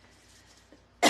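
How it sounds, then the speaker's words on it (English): A person gives one sudden, loud cough at the end after near silence, close to the microphone. "This has been happening to me a lot on lives. I get like coughing."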